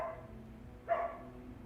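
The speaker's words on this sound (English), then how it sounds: "Oh, these dogs." A husky barks once from somewhere in the neighborhood, a single moderately loud bark partway through with faint room noise before and after.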